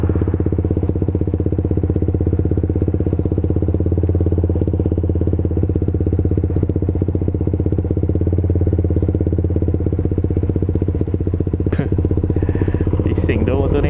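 Motorcycle engine with a 63.5mm block idling noisily close by, a loud steady low rumble with fast rhythmic pulsing, a brief clank near the end.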